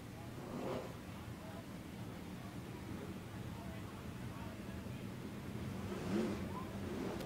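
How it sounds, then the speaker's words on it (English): Race cars circle the dirt track at Silver Dollar Speedway, a distant, rumbling wash of engines that swells twice as cars pass, heard under a commentator's voice. "It's just incredible watching these cars go around."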